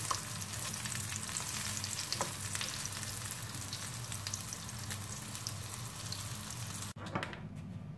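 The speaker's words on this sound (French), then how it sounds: "je laisse cuire mon steak tranquillement" A steak for a ground-meat panini frying in a pan gives a loud, continuous close sizzle that stops abruptly near the end.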